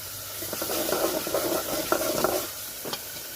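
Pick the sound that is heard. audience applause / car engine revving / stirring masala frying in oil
stirring masala frying in oil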